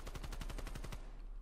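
AK74u fire in the video game Black Ops Cold War, a fast, loud burst of about ten automatic shots that stops suddenly after one second.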